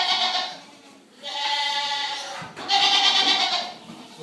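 Goats on a goat farm, pens of about twenty animals, bleating loudly and close by in three long wavering calls with brief gaps between them, no talking over them.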